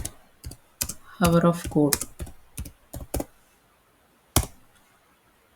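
Clicky keystrokes on a computer keyboard while entering answers into an online AI chatbot ad-libs coding activity, a scatter of separate taps and short bursts near the microphone, with a voice speaking briefly in the middle.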